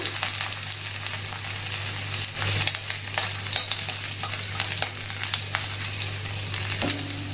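Finely chopped ginger fries in hot oil in a kadai for chutney, a steady close sizzle with occasional stirring scrapes over a low background hum.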